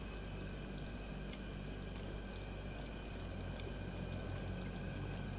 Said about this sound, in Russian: Тут-то явно протекает вода.